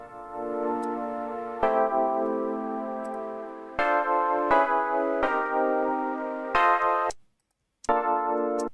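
Synthesizer layered with band-pass filtered noise tuned to the notes, sustained bright tones changing pitch in a series of held notes with sharp attacks, a brief silent gap near the end.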